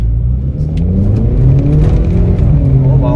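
A Volkswagen Polo GT TSI with an Automac full-system exhaust revs loud and close, a steady deep throaty drone rising slightly in pitch, with faint voices underneath.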